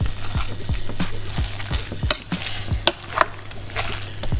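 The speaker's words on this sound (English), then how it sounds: "Now, you can do this with a fork or spoon, but I'm using a masher just here" A masher pressing cooking strawberries in a pan, giving a steady rhythm of soft squelching thumps with wet squishing and a few sharper clicks, close up over a low simmering hum.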